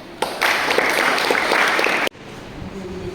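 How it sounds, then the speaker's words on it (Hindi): A classroom of students claps hands together in a burst of applause lasting about two seconds, loud and close, then stopping abruptly, leaving quieter room noise. "चलो ताली बजाओ इसके लिए"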